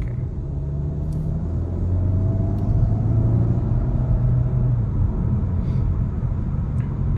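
Škoda Octavia RS 2.0 TSI with 245 hp, launch-control start with the engine droning steadily and rising in pitch as the car pulls hard, heard from inside the cabin with no talking.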